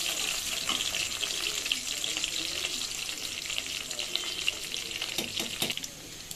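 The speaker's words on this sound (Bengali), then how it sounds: "পেঁয়াজটা একটু নেড়ে চেড়ে নিব" Onions frying in a pan give a steady broadband sizzle with scraping and stirring clicks from a utensil, close and continuous, with no voices.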